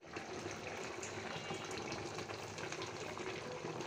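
Frozen beans and cauliflower with green chilies drop into potatoes cooking over a clay stove, giving a dense, continuous hiss of steam and sizzling that holds steady and fairly loud throughout.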